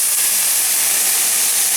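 White wine, about a small ladleful, hitting a hot pan while cooking chicken chasseur, giving a steady loud broadband hiss and sizzle throughout.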